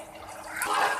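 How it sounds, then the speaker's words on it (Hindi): Water pours into a pot of roasted white chickpeas for chana pulao, a large amount of around six glasses. It makes a brief, rising gush and splash heard alone. "और अब मैं इसमें पानी डालूँगी"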